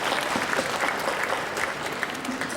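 An audience at a young writers' awards ceremony applauds the poetry nominees with steady, dense clapping that holds at an even level throughout the short stretch.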